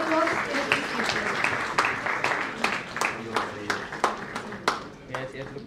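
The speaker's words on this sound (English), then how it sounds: "Please offer your sincere applause in appreciation." Steady audience applause at an award ceremony honoring innovation and social impact leaders, dense clapping with sharper individual claps standing out, continuing throughout under a reverberant hall ambience.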